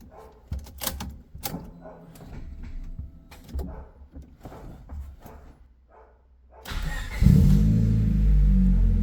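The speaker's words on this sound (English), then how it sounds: "Now the moment of truth. Let's see if the car starts." A few clicks and mechanical clunks, then an EK3 Honda Civic engine, fresh from a transmission and clutch swap, cranks and catches, settling into a loud, steady idle for the last couple of seconds.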